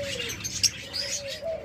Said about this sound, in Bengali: চমৎকার ডায়মন্ড ঘুঘুগুলা